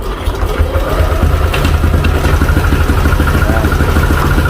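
A Yamaha Aerox 155 scooter with a hard-starting problem and a failed charging system idles up close, its engine throbbing in a steady, even rhythm of low pulses that holds loud for the whole stretch.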